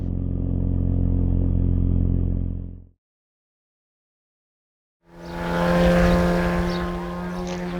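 Semi-scale model airplane flying snap manoeuvres, its engine droning loud and steady, cutting out to silence midway, then returning with a strong buzzing roar that swells and eases.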